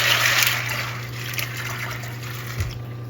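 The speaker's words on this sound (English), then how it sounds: "Swirl it around, pour the water out." Rinse water pours out of a container of beans in a splashy, trickling stream, fairly close and moderately loud, with a brief thump near the end.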